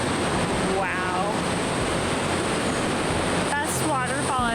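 A rainforest waterfall in the hills above Cairns roars as a constant, loud wash of falling water, with wind buffeting the microphone and brief sweeping chirps over the rush.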